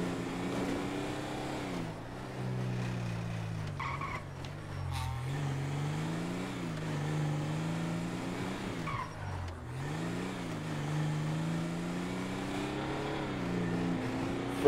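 A high-riding truck's engine in GTA V drones steadily while driving, its pitch rising and falling with throttle changes across the drive, moderately loud and continuous with brief tire and road noises.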